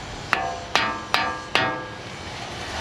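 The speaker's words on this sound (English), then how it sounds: "we're going to tap the CV axle out from the front" Four sharp metallic taps, evenly spaced with ringing decay, as a CV axle is knocked out of the front hub of a 3rd gen Toyota 4Runner during a trail repair.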